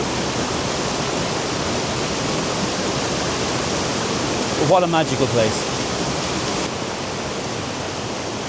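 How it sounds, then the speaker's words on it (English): Coolalingo Waterfall in Wicklow sends up a steady, loud broadband rush of falling water that runs through the whole stretch, with a brief spoken remark heard over it midway. "So I couldn't really get any closer to the waterfall back behind me."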